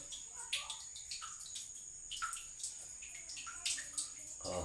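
Water drips and splashes in quick irregular bursts, close and fairly quiet, with a faint steady tone underneath.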